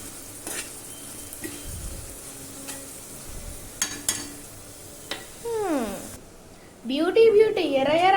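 Food frying over a low flame is stirred in a pan, giving a steady sizzle with scraping strokes. A voice speaks over the second half.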